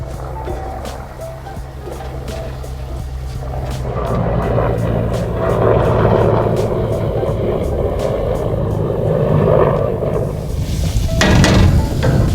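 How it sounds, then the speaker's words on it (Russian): A loud, steady mechanical roar with rhythmic low thumping, like a helicopter passing close overhead, building and holding for several seconds. "за мной вертолетчики прилетели."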